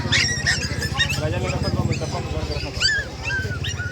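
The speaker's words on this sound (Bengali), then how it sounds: "বন্ধুরা এখানে কুকুর আছে দেখতে পাচ্ছেন" Dogs whimper and yip amid a busy crowd at the Naihati Dui Bondhur Hat market, with people talking loudly throughout and short high cries breaking through the chatter.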